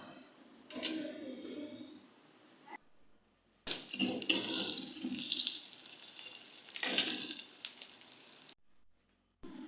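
Roughly chopped onions fry in half a cup of oil for a bhindi masala, bursts of bubbling sizzle that come and go with short silent gaps, fairly faint and close.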